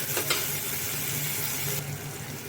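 Masala with chopped tomato, garlic and ginger fries in a pan, a steady close sizzle with brief stirring scrapes near the start.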